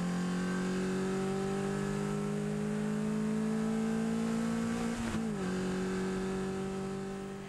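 A Lotus race car circles the Spa circuit, its engine droning steadily at high revs with a brief dip and shift as it slows for the bus stop chicane, then pulls away again, loud and continuous.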